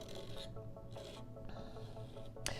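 Palette knife scraping up white acrylic molding paste for a textured flower painting, a soft continuous rubbing rasp close by with a brighter scrape near the end, no talk.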